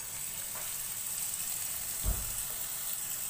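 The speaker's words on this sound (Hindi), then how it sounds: "प्याज को ऑयल में हल्का सा फ्राई कर लेंगे" Onion, cut in rings, frying in oil in a pan: a steady, moderate sizzle with broadband hiss throughout and a brief soft thump near the middle, with no voices.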